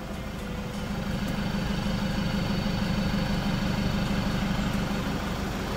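A Toyota SW pickup truck engine with a loud engine noise, loss of power and a turbo leak runs steadily nearby, a deep continuous rumble with an even throb and no voices.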